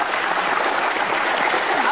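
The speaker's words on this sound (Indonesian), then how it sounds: "Boleh tepuk tangan." Studio audience applause on a live Indonesian television talk show, dense and loud, filling two seconds with steady clapping and no voices over it.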